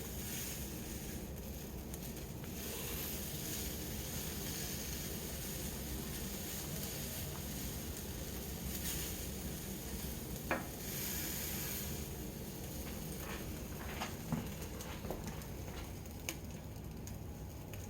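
Hot dogs sizzle on a grill for chili cheese dogs, a steady soft crackling hiss with occasional sharper pops, faint and continuous with no talking.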